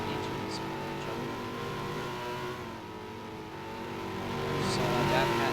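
Race car engines in a racing video game, a Roaring Coyote and a Growling Rod, droning steadily at mid pitch and swelling louder toward the end, with a commentator talking over them.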